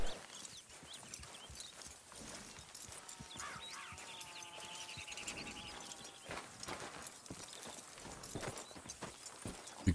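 Horse hooves clip-clop steadily in the video game Red Dead Redemption 2, soft and fairly faint, with other quiet game ambience and a brief tonal sound in the middle.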